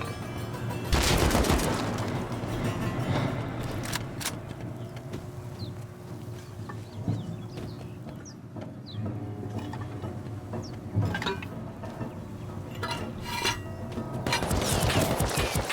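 Semi-automatic rifle fire in a survival shooter game on an icy lake map, with several sharp shots scattered among rumbling engine noise and bursts of heavier fire near the start and end.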